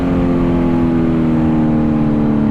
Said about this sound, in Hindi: ये था भाई व्हीली वाला फ्लाई बाय।